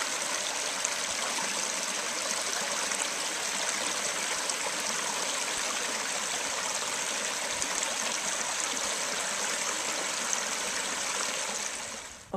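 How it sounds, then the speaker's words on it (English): A woodland stream flows steadily, a constant broad rushing and trickling wash that stays even in loudness throughout, with no voices. "Good water sound here."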